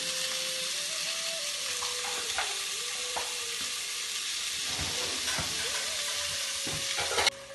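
Oil sizzles steadily in a pan over a low flame for Nellore-style fish curry with tomatoes, a close continuous hiss broken by occasional stirring clatters and a faint tonal hum.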